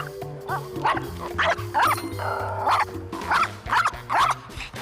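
A dog named Jackson barks excitedly at other dogs on a walk, about eight sharp yips and barks in an irregular, close series over steady low background hum.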